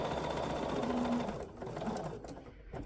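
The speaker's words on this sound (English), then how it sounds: "And then just sew down the center." A sewing machine stitches down the center of quilting fabric squares for a half-square triangle, a quiet, close, rapid rhythmic whir that slows and eases off near the end, with no one talking.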